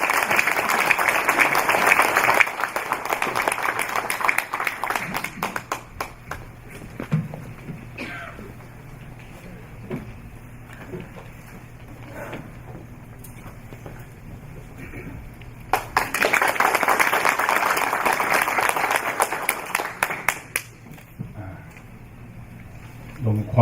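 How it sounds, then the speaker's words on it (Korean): Applause welcoming a speaker to the podium at a memorial service lecture, swelling loudly at the start, fading under murmurs and shuffling, then rising again in a second burst near the end. "박수로 환영합니다"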